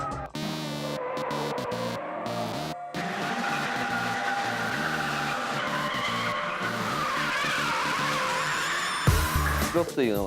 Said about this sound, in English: I listen to the squealing sound of tires